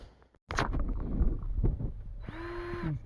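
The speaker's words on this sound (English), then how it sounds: "I'm tightening these bolts down, give them a torquing." Valve cover bolts being tightened on a Dodge Nitro 4.0L engine, with a short burst of power tool whirring near the end after some clicking and handling noise close by.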